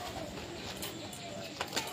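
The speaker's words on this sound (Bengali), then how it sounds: "এখানে আমার এই যে পায়রা থাকে, এখানে পায়রা" Many pigeons at their loft cooing quietly in a low steady murmur, with a couple of brief louder calls near the end.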